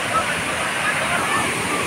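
Steady broadband rush of Situbo Falls pouring nearby, a continuous close roar filling the whole clip with no pauses, while people exclaim over it.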